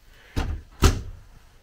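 An RV wardrobe door on a 2017 Thor Vegas 25.3 motorhome is opened, giving two close, distinct knocks and clunks about half a second apart, each with a short rattling tail.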